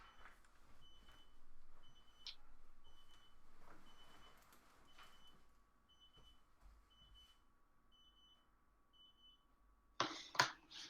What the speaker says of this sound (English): Does anyone else hear that beeping?